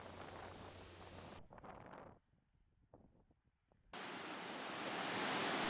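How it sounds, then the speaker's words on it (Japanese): A flowing river on the Torres del Paine W Circuit trail in Patagonia gives a steady broadband rushing hiss. It drops away abruptly to near quiet partway through, then returns louder. "流れる川のせせらぎもすがすがしいです"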